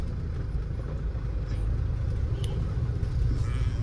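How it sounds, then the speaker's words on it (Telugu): Vehicles pass on a road near a truck stop where a grape load bound for Jammu waits for diesel, a steady low rumble of traffic and idling engines running throughout with no clear individual pass-bys. "వస్తూనే ఉంటారు బండ్లు."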